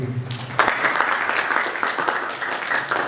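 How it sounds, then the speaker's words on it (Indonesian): Audience applause for two candidates at a village youth organization leadership debate, a brief voice giving way to sustained mixed clapping that holds steady throughout. "Kita kasih tepuk tangan untuk kedua para calon ini."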